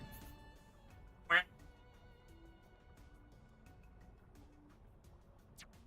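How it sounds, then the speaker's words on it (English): A single short quack from a duck in Xenoblade Chronicles, heard once near the start against a quiet bed of game music and ambience. "Ah, yes, the majestic space duck."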